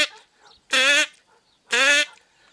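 A human voice imitates a duck, giving two loud, nasal, buzzing quacks about a second apart, close and clear with quiet gaps between them.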